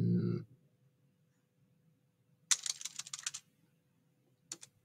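Quick burst of typing on a computer keyboard, a rapid cluster of close clicks followed after a pause by a few more taps, in a quiet room with a short low sound at the start.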